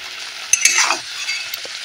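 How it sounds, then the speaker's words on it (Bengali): Chutney is poured and stirred in a pan, a brief soft wet scrape and slosh with a faint sizzle, close and moderately loud, over about two seconds. "এবারে চাটনিটাকে ঢেলে নেব।"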